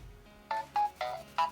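WeWALK smart cane powering on: four short bright electronic tones in a rising-then-falling startup chime, close and clear, each lasting about a tenth of a second with brief gaps, no talking.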